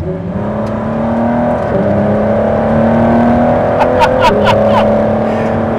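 Twin-turbo Ford GT engine accelerating on the Road America track, heard from inside the cabin as a loud, steady drone that climbs in pitch, drops at a couple of gear changes, then climbs again, with sharp clicks near the end.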